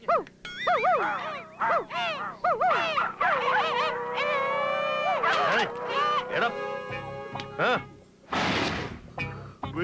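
Several people imitate dogs howling at night in a Telugu comedy scene, with overlapping drawn-out wavering howls and yelps close by, followed by brief speech near the end.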